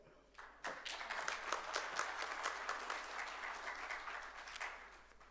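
Audience applause fills a notaries' congress hall at the closing session, a sustained, dense wash of clapping from a large crowd that starts abruptly and carries on steadily, fairly distant and even.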